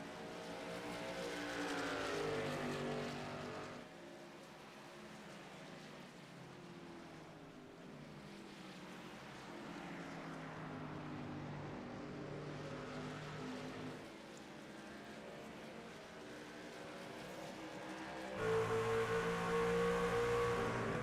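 A race truck engine in the iRacing video game, loud and continuous, its steady droning tone shifting in pitch as the truck drops down into third gear while chasing a rival's bumper.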